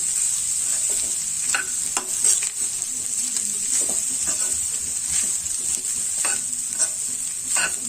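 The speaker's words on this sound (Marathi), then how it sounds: "गॅस थोडा मीडियम ठेवायचा आणि हे खोबरं भाजायला सुरुवात करायची" Wet grated coconut being dry-roasted in a pan over medium heat for Malvani-style masala, a steady close hiss of frying with repeated scraping stir strokes throughout, no voices.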